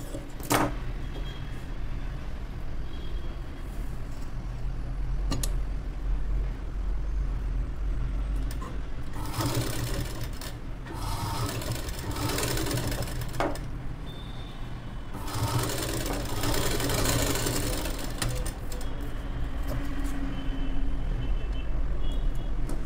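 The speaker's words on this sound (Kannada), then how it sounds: "ಇದೇ ಥರ ಇನ್ನೊಂದು ಸೈಡ್ಗೂ ಹೊಲ್ಕೊಂಬಿಡೋಣ." A sewing machine stitching a blouse runs as a continuous mechanical whir, swelling into louder, denser stitching bursts midway and again later, with no talk.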